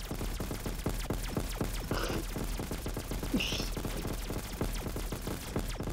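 Rapid video game gunfire from a magnum-style weapon, a steady string of sharp, evenly spaced shots spammed continuously across the clip with a low hum underneath.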